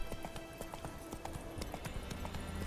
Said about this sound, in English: I'm chasing this guy down on horseback.